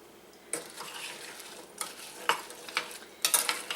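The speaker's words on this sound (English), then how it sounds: "So all you're going to do is put all that together, give it a good stir." Cherries, orange and cranberries stirred together in a pot, with several scraping and clinking spoon strokes against the pan over a quiet background, growing busier toward the end.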